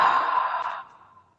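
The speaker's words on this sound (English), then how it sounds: "Just slowly inhale and exhale out your mouth." A single slow, deep exhale through the mouth, a soft breathy rush that holds steady, then fades away over about a second, close and alone with no talking.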